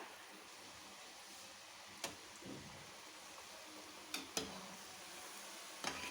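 Cashews coated in pakora batter fry in hot oil with a soft, steady sizzle, broken by a few sharp clicks and pops; no one speaks.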